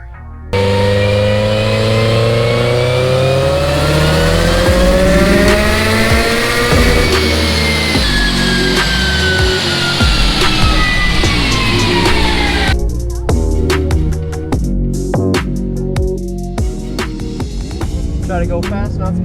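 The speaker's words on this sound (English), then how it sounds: "enjoy these clips of me ripping the car over the last little bit" A Subaru GC8 Impreza with an STI engine swap revs hard and climbs through gears with rising whines, loud and close, then drops into rough, choppy throttle bursts.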